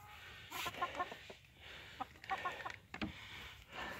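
Barred Rock hen in a coop giving a run of short, soft clucks in uneven bursts, close by, with rustling between calls and no talking.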